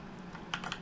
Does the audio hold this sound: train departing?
no